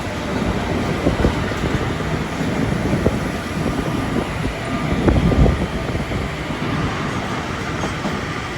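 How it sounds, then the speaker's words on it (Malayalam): Jhelum Express rolling into Faridabad station, a steady rumble of wheels on rail with faint clickety-clack and wind buffeting, continuous and fairly loud with slight surges, no voices. "ഫരീദാബാദ് സ്റ്റേഷനിലേക്ക് ഇതാ ട്രെയിൻ എത്തിക്കൊണ്ടിരിക്കുകയാണ്."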